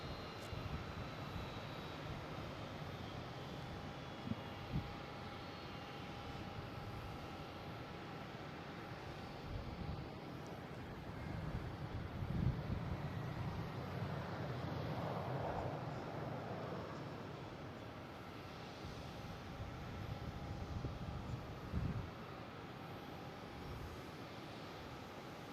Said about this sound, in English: Now we got Delta here from LAX.